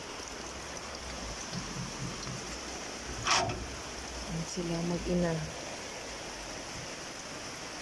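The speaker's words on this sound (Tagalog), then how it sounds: "kahit malakas ang ulan" Steady, dense hiss of heavy rain at night throughout, with a voice speaking briefly under the downpour.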